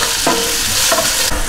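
Onions soften over reduced heat in a frying pan with a loud, close, continuous sizzle, broken by a few bursts of stirring scrapes.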